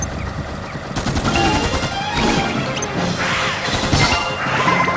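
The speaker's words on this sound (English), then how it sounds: "we're going to start with our good old friend, Machine Gun Arm 3" Rapid gunfire from the gold-plated Machine Gun Arm 3 in the video game Dark Chronicle, a dense, loud burst of rattling shots with crashing impacts running the full length, no speech.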